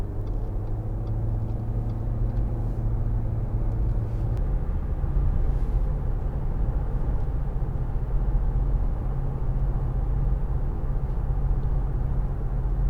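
A 2013 Audi A4 Avant 1.8 TFSI estate with Multitronic gearbox accelerates, its steady engine rumble swelling and holding from inside the cabin for several seconds without talk.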